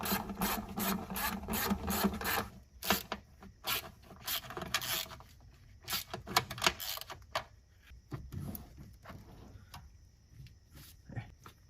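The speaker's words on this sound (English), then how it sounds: "I'm going to start the bolt by hand, that way you know it's not cross threading or anything like that. And tighten them down evenly" Bolts threaded by hand and then tightened on an engine bay bracket of a 1973 Monte Carlo, giving a run of close, dry metallic scraping and ratcheting clicks with brief pauses between bursts and no talking.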